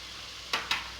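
Onions frying in a pan for a chicken curry, a steady soft sizzle with two brief louder hissing bursts as they are stirred.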